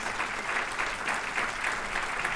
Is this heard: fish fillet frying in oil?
no